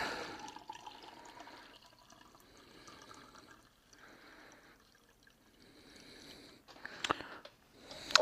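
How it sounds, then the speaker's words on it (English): Water is poured from a pouch into lemonade-like MRE drink powder dated 2013, a soft, steady trickle with some fizzing splash that runs for several seconds and ends with a few louder handling knocks. "Go ahead and add a little bit of water."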